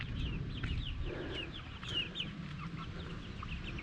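Chickens cluck and murmur continuously inside a farm coop, several birds overlapping at moderate distance with a steady low background rumble.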